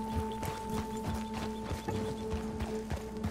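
Rhythmic clip-clop of horse hooves galloping steadily in the video game Red Dead Redemption 2 on PS4, over a looping musical backdrop, moderately loud and close.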